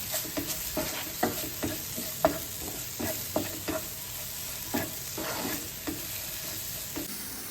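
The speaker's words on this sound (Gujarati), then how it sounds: "એક ચમચી જેટલી આદુ લસણની પેસ્ટ આપણે બધું સારી રીતે મિક્સ કરી દઈશું" A spoon scrapes and stirs ginger-garlic paste with spices in a pan for Gujarati masala pav, sounding as a steady series of close, sharp clinks and scrapes over a soft sizzle, with no talking.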